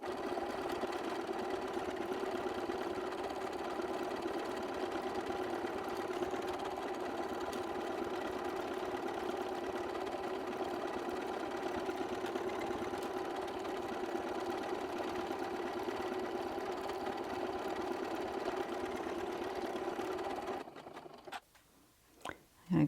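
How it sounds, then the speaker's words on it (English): A sewing machine runs steadily for about twenty seconds, stitching decorative stitches along a fabric leaf appliqué for a 3D quilt, its even mechanical hum close and continuous before stopping abruptly near the end. "you want to take your time when you're doing decorative stitches"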